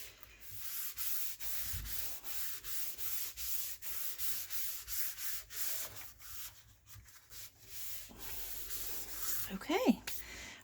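Paper pressed flat by hand onto a glued cardstock lapbook, a steady dry rubbing and sanding-like scrape repeating in quick strokes close to the mic, with a brief louder rustle near the end.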